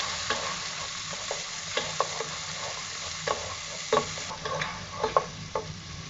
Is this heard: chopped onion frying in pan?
yes